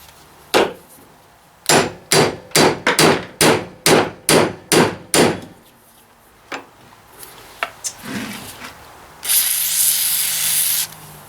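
An aerosol spray can hisses onto old equipment in a short steady burst near the end, after a run of loud, rhythmic metal hammer blows and a few scattered clanks.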